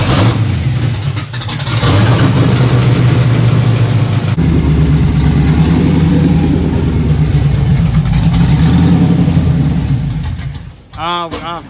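A 1972 Nova fitted with an LS 5.3 V8 runs at a loud, close idle that surges and sags unevenly, then cuts out near the end with a brief sputter.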